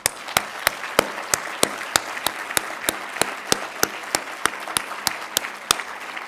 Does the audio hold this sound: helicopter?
no